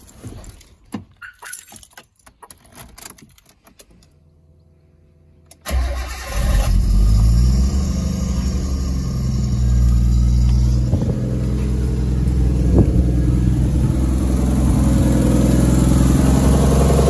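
Car engine cranks with a jangle of keys, catches and starts, then settles into a steady, loud idle after a belt and power steering repair.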